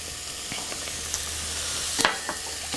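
Onions and celery hit a pan of browned mushrooms, a steady close sizzle with a few sharp crackles and a louder spitting burst partway through, no voices.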